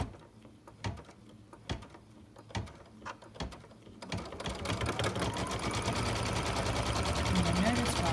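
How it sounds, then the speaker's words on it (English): A Brother Dream Machine or Babylock Destiny embroidery machine fill-stitches a circle on a letter emblem, starting after several sharp clicks and taps, then settling into a steady, rapid, close mechanical buzzing that grows louder toward the end. "Now we're ready to stitch our circle."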